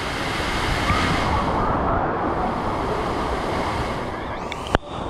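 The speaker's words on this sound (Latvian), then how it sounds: "Jūra ir augstā." High sea waves surge and roar in a continuous, loud wash of surf, with wind buffeting the microphone, and a single sharp knock near the end.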